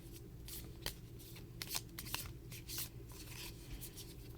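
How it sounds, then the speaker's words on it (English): Oracle cards are shuffled by hand in a quiet room, with repeated soft riffling and slapping bursts of card noise, close and fairly faint, continuing in an irregular rhythm. "I'm going to pull an oracle card for you in 1 second"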